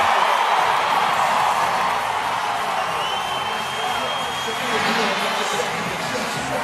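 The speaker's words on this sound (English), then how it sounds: "Let's listen to this crowd." A large crowd roars and cheers at a PBR bull riding event in Sacramento, a loud, sustained wall of noise heard under an announcer's voice.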